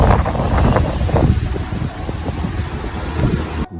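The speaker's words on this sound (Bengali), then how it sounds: "ঝড়ের বাতাস আরও বেড়েই চলেছে।" Storm wind on the Dhaka–Chittagong highway buffets the microphone in loud, gusty rushes and rumbles that ease slightly partway through, with no voices.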